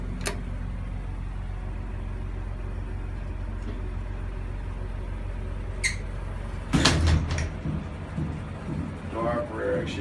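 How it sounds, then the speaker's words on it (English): A Montgomery hydraulic elevator door operator at a high school slides and thuds shut with a loud mechanical clunk partway through, over a steady low hum of machinery. "Door operator actually has gotten worse."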